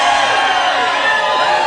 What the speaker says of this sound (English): let's hear the large crowd